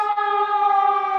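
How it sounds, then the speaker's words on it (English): A steady wailing emergency vehicle siren holds one loud, sustained tone for a moment, with no voices. "I'm sorry for the sirens."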